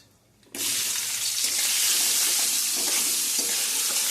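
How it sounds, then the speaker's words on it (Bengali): Onions tossed into hot oil with frying chillies in a pan: after a brief quiet moment, a loud, close sizzle bursts up and keeps hissing steadily, with occasional spoon scrapes. "ভাজা হয়ে গেছে, আমি দিয়ে দেবো পেঁয়াজ।"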